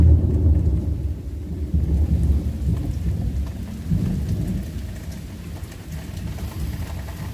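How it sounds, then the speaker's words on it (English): Heavy rain pours steadily in a thunderstorm while deep rolling thunder rumbles low and loud, swelling and fading in waves, with no voices. "the lightning and thunder and rain"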